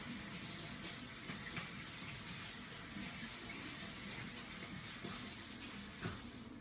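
Currants in a small strainer bag are rinsed under running water, a continuous soft splashing gush from a tap that stays steady and close throughout with no talk.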